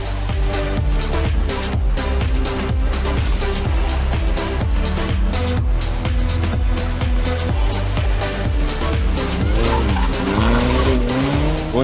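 A mini-challenge rally car blasts flat out through a forest stage in fifth gear, its engine roaring loud and continuous with rhythmic gear-driven pulses and tire noise, heard from inside or close by.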